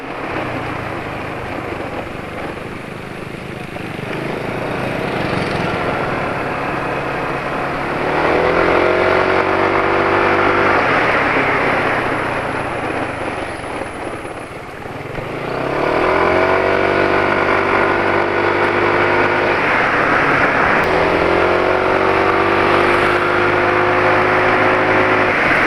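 An engine running on fresh Caltex Delo Sport 15W40 oil after a drain of Total Rubia TIR gives a loud, steady drone close by, rising in pitch through several revs that climb and fall.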